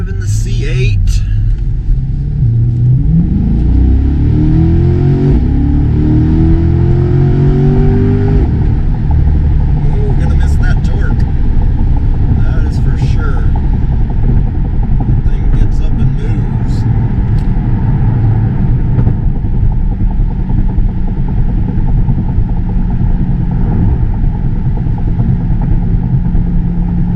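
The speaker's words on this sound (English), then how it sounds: "Alright guys, last drive in the C8." A 2022 Chevrolet C8 Corvette HTC with its mid-engine drones steadily from inside the cabin, revving up through one gear early on before settling into a constant loud rumble as it cruises.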